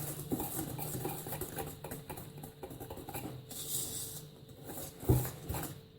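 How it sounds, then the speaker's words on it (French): A whisk beats eggs, a pinch of salt and vanilla sugar by hand in a bowl for a yogurt cake, giving quick metallic clinks and scraping taps against the bowl, with one sharper knock near the end. "Maintenant avec mon fouet je vais mélanger."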